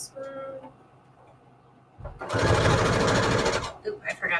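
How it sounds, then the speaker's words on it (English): A household sewing machine runs a straight stitch in one steady motorized burst of about one and a half seconds, loud and close, following a stretch of quiet handling with faint talk. "I just find it so much easier to use my sewing machine"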